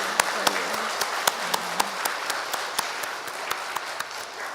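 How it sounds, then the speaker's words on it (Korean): A church congregation claps in a sustained murmur of applause, with a few sharp, distinct hand claps standing out close by at irregular intervals over the softer crowd. "이 모든 은혜를 베푸신 우리 하나님 앞에 영광의 박수 돌려드려요."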